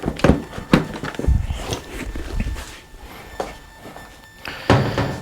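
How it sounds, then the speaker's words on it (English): The seat of a Honda Blackbird CBR1100X motorcycle is unlocked and lifted off. Several sharp, close plastic-and-metal clunks and thunks come in uneven bursts, with quieter handling noises in between. "unlock the seat and lift it off"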